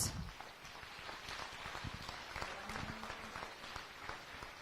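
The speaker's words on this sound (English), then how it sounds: "Give these kids a big round of applause." A crowd at a 4-H beef showmanship show at the Nebraska State Fair claps in a sustained, fairly faint round of applause, heard from a distance and continuing evenly throughout.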